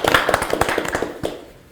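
Applause from a small audience welcoming debate panelists at a church election forum, short scattered claps close by that quickly thin out and fade.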